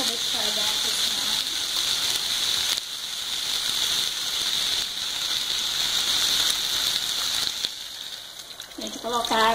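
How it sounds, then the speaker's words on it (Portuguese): Water poured into a pan of frying chicken stroganoff with tomato and pepper sets off a loud, steady sizzle and steaming hiss that runs the whole time, with a voice faintly present at the start and end. "Agora eu vou colocar um pouco de água para deixar dar uma cozinhada."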